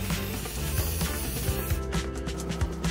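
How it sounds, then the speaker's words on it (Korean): Pain relief spray hissing onto the rubber midsole of a sneaker, a steady pressurized spray holding for a few seconds at close range, with no talking. "다음엔 마지막으로 스프레이 파스도 한번 뿌려보겠습니다."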